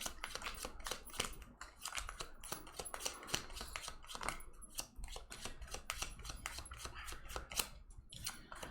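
A deck of game cards is riffle-shuffled and bridged, giving a dense close run of crisp flicking clicks over nearly nine seconds, with no talk.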